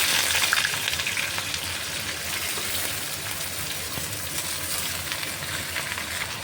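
Giant taro vegetable pieces dropped into hot oil with frying chili and black cumin, producing a dense crackling sizzle that starts loudest and settles into a steady frying hiss, close and with no voices.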